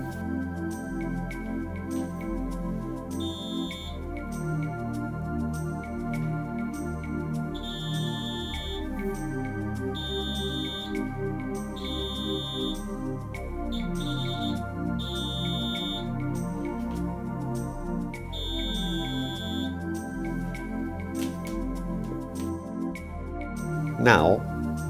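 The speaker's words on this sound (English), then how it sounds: "we can test the continuity with a multimeter" A multimeter beeps during a continuity check of freshly crimped wires for a Sanwa-modded Dreamcast arcade stick, several short, steady high tones repeating at irregular intervals beneath background music and narration.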